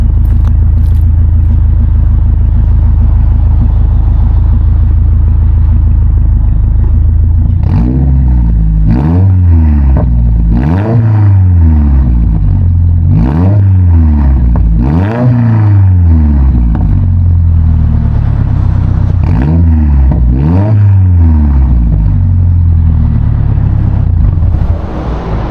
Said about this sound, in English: Ray Motorsports catback exhaust for your exhaust of choice, because it is a 3-inch high flow exhaust system.